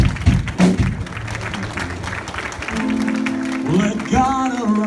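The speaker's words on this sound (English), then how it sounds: "Can we give the Lord a clap offering right now?" A church congregation clapping during a worship service, brief bursts of claps at the start, then sustained sound with a voice singing or speaking over it toward the end.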